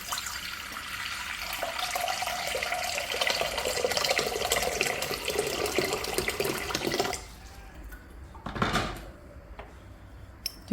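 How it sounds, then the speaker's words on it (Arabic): Water runs steadily from a tap into a cooking pot in a Moroccan kitchen, a continuous loud splashing fill lasting several seconds before cutting off, followed by a brief splash and quiet. "ندير فيها الماء"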